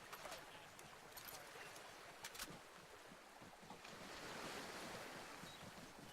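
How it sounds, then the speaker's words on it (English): Loud, steady rushing water from a river in the military video game ArmA 3, with a broad wash of noise that swells toward the middle, mixed with wind-like hiss and a few faint clicks. "this fucking river's so loud"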